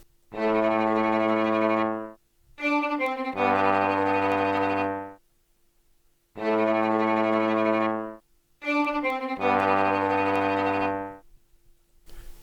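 Sustained tenor trombone notes with a rich, buzzy tone play in two repeated phrases, held chords separated by short pauses, layered with violin tremolo.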